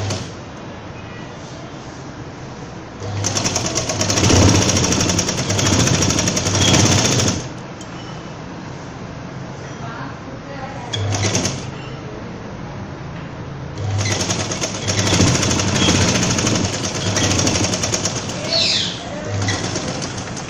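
A sewing machine stitches the inner shoulder of a winter dress coat collar, running in two loud, steady bursts of about four seconds each, with quieter room noise between them.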